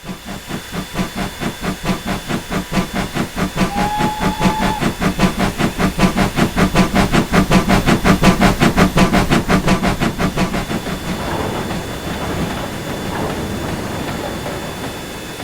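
A GT3 gas-turbine locomotive in Train Simulator runs with a steady, loud rhythmic chuffing over a constant hiss, building and then easing as the beat fades into rumble; a brief whistle-like tone sounds early.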